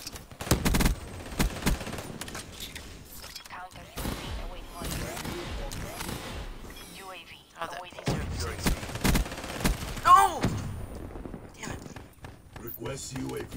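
HLX 4 gun in a video game firing repeated bursts with heavy recoil, rapid sharp shots and footsteps mixed with a voice talking over much of the action.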